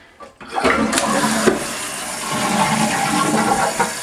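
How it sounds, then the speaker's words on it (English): Toilet fitted with a Korky Strong Arm handle flushes loudly, a sudden rushing gush of water after a brief click, then a steady swirling drain that continues close up without talk. "Alright, let's go ahead and flush it."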